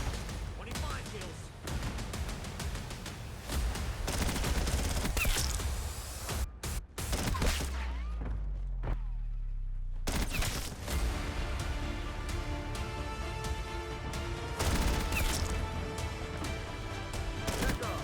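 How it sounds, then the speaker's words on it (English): Rapid automatic fire from the PPSh, the fastest-firing SMG in Black Ops 6, in a busy multiplayer match; dense bursts of gunshots with a brief lull, loud and close over game effects. "that is the fastest firing SMG here in Black Ops 6"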